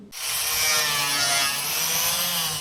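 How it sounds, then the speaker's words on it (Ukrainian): A teenage helper sands a finished homemade wood-burning potbelly stove in a craftsman's workshop in Ukraine's Vinnytsia region. A loud, continuous abrasive grinding whine runs steadily with no talk. "Хлопець шліфує вже готовий виріб."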